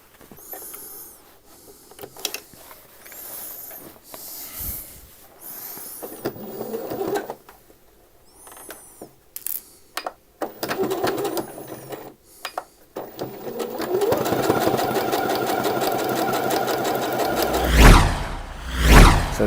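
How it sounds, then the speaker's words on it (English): A sewing machine stitches a waistband onto drawstring shorts in short, close whirring bursts separated by pauses, then runs in a longer steady stretch toward the end with a few louder thumps, and no one speaking. "just want to sew your waistband to your shorts."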